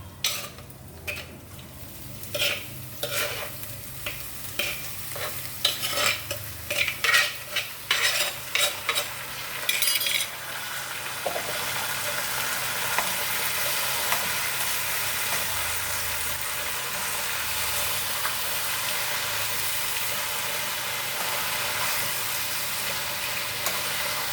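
Beans and coconut fry in a pan with a run of sharp, irregular spatula clatters and scrapes at first, then a steady, loud sizzling hiss that continues alone.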